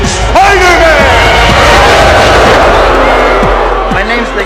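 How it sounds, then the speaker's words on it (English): A crowd at a wrestling match roars, cheers and bellows loudly and without a break, dense and close, with shouted voices and a thud cutting through. "the crowd went absolutely wild"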